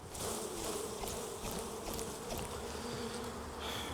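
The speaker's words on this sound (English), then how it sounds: "So I'm just going to shake the bees off this frame." Honey bees swarming around an opened hive as a frame is shaken clear, a dense, loud, continuous buzzing close by with no speech.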